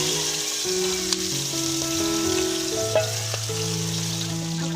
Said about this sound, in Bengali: একদিকে মাছ ভাজা হচ্ছে, আরেকদিকে ভাত বসিয়ে দেওয়া হয়েছে।